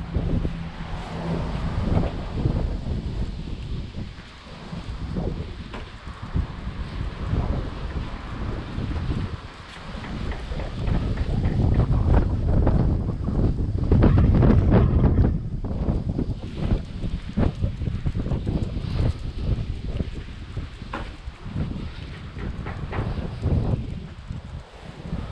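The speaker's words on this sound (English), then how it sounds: "As you can hear, the wind's picked up a little bit." Wind gusts steadily outdoors along Bridle Lane in Madeley, Telford, a continuous broadband rush buffeting the microphone, swelling louder in the middle and easing slightly toward the end, with no voices.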